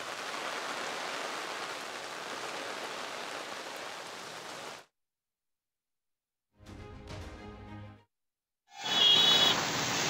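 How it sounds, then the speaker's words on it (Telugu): Heavy rain pouring down in Hyderabad, a loud, steady broadband hiss that cuts out abruptly, returns briefly as a patter, then resumes strongly. "మొత్తంగా అయితే మాత్రం హైదరాబాద్లో వర్షం దంచి కొడుతోంది"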